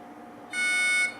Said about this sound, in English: The entry tone and timer will then start.